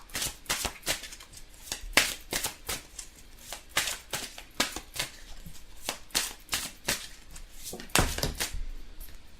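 Oracle cards shuffled by hand in a steady run of crisp, riffling bursts and soft slaps, close and fairly quiet, with no talking.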